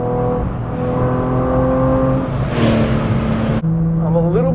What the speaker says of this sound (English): This car feels like a race car for the street.